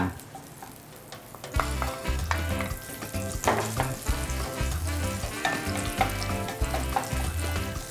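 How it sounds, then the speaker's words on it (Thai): Garlic frying in butter crackles with a steady, loud sizzle that starts after a quiet second, broken by repeated scraping and tossing strokes of the stir-fry, close up and without voices. "ผัดกับกระเทียมนะครับ"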